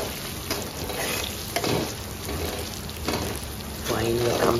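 Prawn pickle being stirred and tossed in a hot pan, a dense crackling sizzle with scraping strokes throughout, and faint voices briefly audible near the end.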